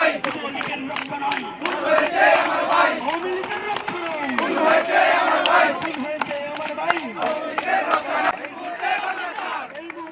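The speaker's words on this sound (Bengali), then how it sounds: "আমরা স্লোগান দিচ্ছি" Bangladeshi students at a protest rally in Altab Ali Park, London, chant slogans together as a loud, dense crowd, with rhythmic call-and-response bursts and scattered shouts throughout.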